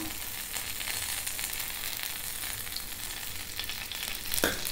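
White bread slices frying in oil on a pan, a steady close sizzle with light crackling throughout and a brief scrape near the end, no voices.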